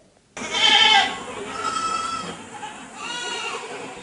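Goats bleat several times in a modern goat-farm shed, loud and close at the start, then quieter calls with general barn noise.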